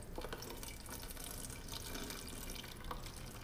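Liquid poured into a container, a steady faint trickling splash that runs unbroken throughout.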